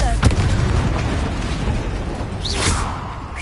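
The Confringo fire spell bursts in Hogwarts Legacy with a sharp, close explosive boom and a whooshing rush, followed by a rumbling tail and a second swelling blast, with voices in the mix.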